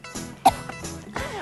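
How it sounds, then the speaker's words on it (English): A single sharp cough in the middle, with softer throat sounds and breathy noises around it, close to the listener. "I'm here coughing."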